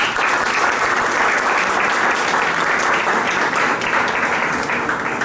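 A dense, steady burst of audience applause at a book presentation in a hall, holding at an even level throughout with no talk.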